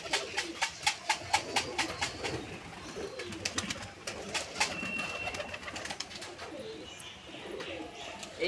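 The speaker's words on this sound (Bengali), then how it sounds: "দাদা পায়রাকে খেতে দিচ্ছে, পায়রা আসছে সব এক একটা করে" Pigeons coo repeatedly at a loft as they are fed, the soft rhythmic calls close by and steady over faint background noise.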